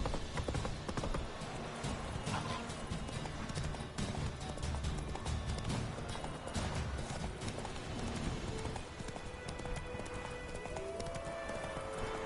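Roach the horse gallops in The Witcher 3, a rapid, loud clip-clop of hooves with a rolling rhythm over constant ambient noise, and a brief whinny-like cry near the end.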